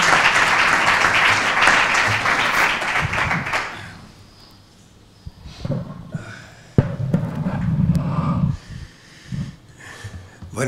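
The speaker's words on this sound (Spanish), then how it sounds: "Un aplauso para este nuevo libro que tenemos encima de la mesa." Audience applause at a book presentation, a dense round of clapping that fades out after a few seconds, followed by shuffling, handling noises and a few scattered sounds in a quiet room.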